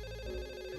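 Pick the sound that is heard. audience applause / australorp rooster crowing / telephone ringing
telephone ringing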